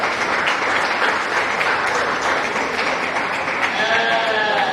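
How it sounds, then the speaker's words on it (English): Crowd at a 2024 O'Brien County Fair swine show breaks into loud, sustained applause for the competitors, a thick wash of clapping throughout, with a faint animal bleat surfacing near the end. "let's give a big round of applause to all our competitors today"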